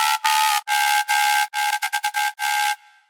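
Bright synth lead from the B section of an electronic drop, pitched higher through a frequency shifter set around 280 Hz: loud, buzzy sustained blasts in a choppy rhythm, with several long bursts and then quick stabs, ending abruptly.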